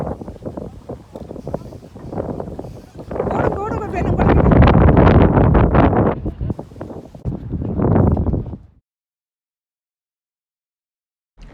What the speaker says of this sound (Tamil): பயங்கரமாக காற்றடிக்குது அவ்வளோ குளிர்